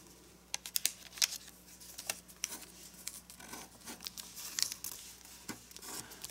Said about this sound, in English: And let's rotate 90 degrees and let's fold in half.